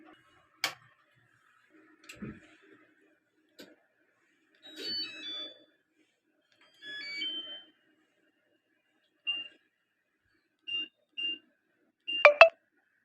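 An IFB washing machine starting a three-hour drum clean cycle: button clicks and a series of short electronic beeps and tones, spaced out with quiet between.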